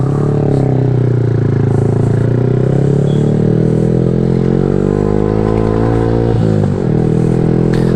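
A Yamaha R15 V3 motorcycle engine runs steadily and loud, its idle uneven from poor tuning, with a rough, lumpy throb and a brief dip in pitch near the end.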